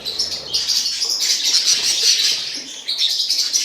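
Budgerigar chicks and parents chirp in a nest box, a dense, high twittering that runs steadily at close range with small rustles and wing flutters underneath.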